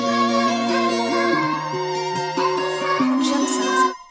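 A vox sample from an FL Studio stock plug-in: a sustained, synthetic vocal-like tone holds a shifting chord for several seconds, steady and fairly loud, then cuts off abruptly.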